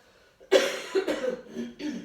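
Several coughs in close succession, near and fairly loud, with a short burst and a few rougher follow-up coughs.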